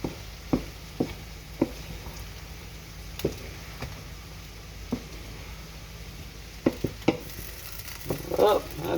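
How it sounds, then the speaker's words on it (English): Steady hiss of fish fried rice sizzling in a pan, broken by sharp clinks and stirring knocks, close by with no talking. "I hear you sizzling, baby."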